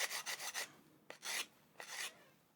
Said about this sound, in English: we just bring our abrasive in, start working it on the top, making nice flat contact across